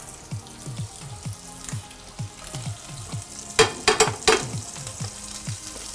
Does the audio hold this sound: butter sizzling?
yes